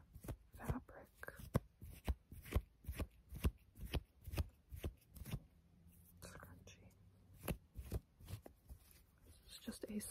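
Soft scrunchie fabric handled and plucked in close, quiet ASMR style, giving a steady run of brushy, crinkly rustles and plucks under a faint whisper.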